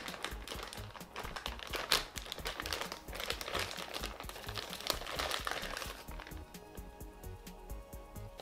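Plastic packaging of a Hamtaro Burger King kids' toy crinkles and crackles close up as it is opened, a busy run of rustling and crunching handling noises.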